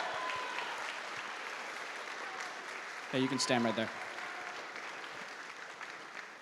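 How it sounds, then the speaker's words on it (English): Audience applause for a student conductor at a school band and orchestra concert, a steady wash of clapping throughout, with a voice briefly speaking over it midway. "Yeah, you can clap for him."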